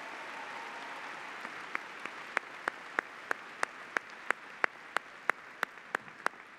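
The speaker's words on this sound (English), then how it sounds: "Let's thank him one more time and give him a great round of applause." Commencement audience at a graduate ceremony applauds speaker Victor Zhao, a steady broadband wash of clapping with one loud, regular nearby clapper cracking sharply and rhythmically through the second half.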